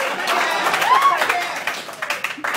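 An audience at a standup comedy roast in Alaska bursts into applause and cheers, loud and dense at first, then thinning into scattered claps toward the end.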